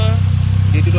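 A Mitsubishi Lancer 2.0 CVT fitted with a bolt-on turbo runs at idle, a loud, steady low engine drone close by with no break.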